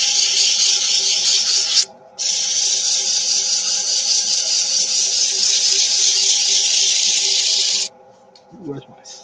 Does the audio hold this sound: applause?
no